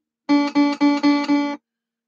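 Five quick, evenly spaced high guitar notes picked on the thin upper strings, each bright and sustained and clear with nothing else around them.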